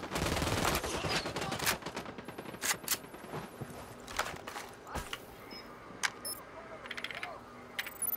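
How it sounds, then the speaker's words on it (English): Gunfire in the Ghost Recon Wildlands video game, a dense burst of shots at first, then scattered sharp reports and clicks at varying distance over a quieter background. "I'm shooting these fuckers."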